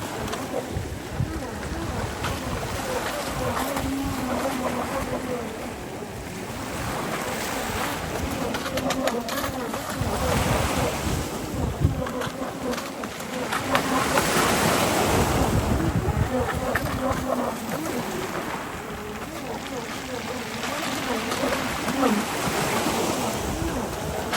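Sea waves wash and surge around a small model jet boat during a water test, with gusty wind buffeting the microphone and swells rising and falling throughout, loudest midway through.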